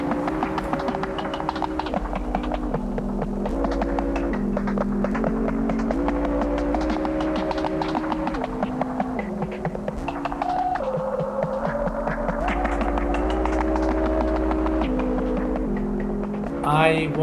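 A sequence of steady electronic tones from a CV-modified Walkman, playing eight programmed CV outputs, steps through different pitches, each held briefly over a low humming throb, looping in a slow, mechanical pattern.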